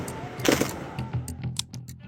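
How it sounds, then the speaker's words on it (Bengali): Rifle shots fired by soldiers advancing on chanting protesters: several sharp, loud cracks ring out at irregular intervals, the heaviest burst early, then scattered single reports against a noisy outdoor background. "হঠাৎ রাইফেলের গুলির শব্দ শোনা যায়।"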